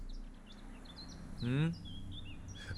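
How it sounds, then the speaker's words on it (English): Faint birdsong in the Witcher 3 video game: scattered chirps and short tweets repeat over a quiet outdoor backdrop, with a brief low vocal sound midway. "The birds singing, the bees buzzing."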